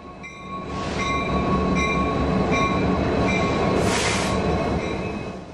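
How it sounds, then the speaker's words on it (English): A long freight train hauled by four coupled diesel-electric locomotives rolls steadily through Eugene, Oregon, giving a continuous rumble and rattle of wagons with faint high wheel squeals, close and fairly loud throughout. "This freight train is being pulled through Eugene, Oregon by locomotives."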